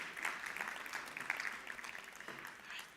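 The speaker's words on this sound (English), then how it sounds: "Let's give the panelists a round of applause" Audience applause for conference panelists, a steady wash of clapping at a live summit, fairly faint and distant, sustained for a few seconds with no voices over it.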